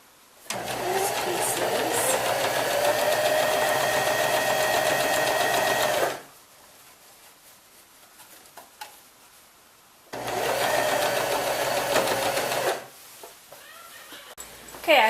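Sewing machine stitching quilt squares together, a loud steady motor whir running for several seconds, stopping, then starting again for another long run, close by.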